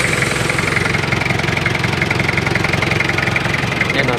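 A TCM FD30 forklift with clutch slippage idles steadily after starting, its engine putting out a continuous close, mid-pitched rumble with a fast regular pulse.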